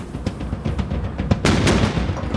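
Heavy cannon fire aboard Captain Kidd's sailing ship, a series of booming blasts and rumbling reports, the loudest and densest volley arriving past the midpoint and rolling on to the end.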